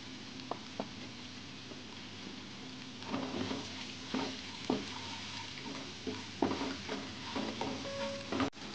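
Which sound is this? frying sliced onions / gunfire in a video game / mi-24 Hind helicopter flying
frying sliced onions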